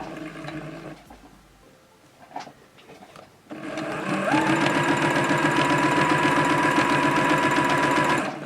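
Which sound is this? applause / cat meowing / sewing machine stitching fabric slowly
sewing machine stitching fabric slowly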